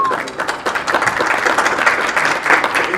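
A convention panel audience breaks into loud, sustained applause, dense clapping that swells and continues steadily for a few seconds.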